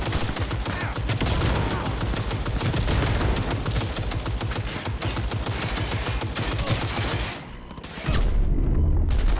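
Rapid gunfire in the video game Cyberpunk 2077, dense sustained bursts of automatic shots filling the scene, briefly dipping near the end before a loud heavy blast resumes.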